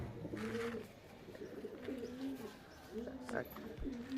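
Several pigeons coo in a loft, including closed-tail pigeons, with repeated low rolling calls that overlap through most of the stretch. Someone talks over the birds at close range.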